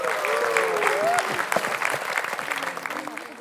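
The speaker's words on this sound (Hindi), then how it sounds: "ताली बजाइए इनके लिए एक बार।" Applause from a studio audience at a televised food competition show, a dense burst of clapping that starts full and gradually thins into scattered claps, with a voice heard over it near the start.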